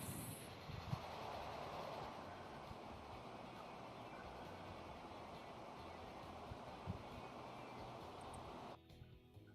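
Trains run in the video game Transport Fever 2, a steady low rolling rumble with faint clatter that holds evenly for several seconds, then drops off abruptly near the end, no talking.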